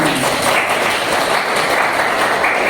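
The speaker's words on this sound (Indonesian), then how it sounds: "Tepuk tangan." Applause from the audience at a university teaching session in East Java, a loud, dense wash of clapping that runs steadily without pause from start to finish.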